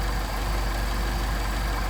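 A warmed-up engine with Solex carburetors runs just after a hot start, a steady, close, unbroken idling roar with no pauses or voices.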